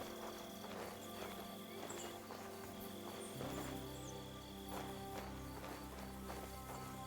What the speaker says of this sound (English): There's horses here.